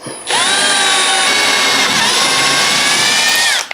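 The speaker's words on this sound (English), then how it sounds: "grab a 3mm drill bit and we're going to pilot hole on the two marks that we've made" A power drill with a 3mm bit bores pilot holes during a bath installation, giving a loud, steady high whine that runs for about three seconds with no talk.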